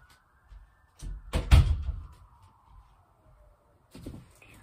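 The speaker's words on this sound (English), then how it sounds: "Hold up, I'm gonna close my door because this is annoying." A door is pushed shut with a loud thud and slam, followed by a softer knock a few seconds later, over a faint hum in a quiet room.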